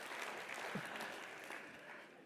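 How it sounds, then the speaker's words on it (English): Audience applause at a Christian worldview symposium lecture, a soft, steady patter of clapping from a seated crowd, heard from a distance and fading slightly toward the end. "you can applaud for that process"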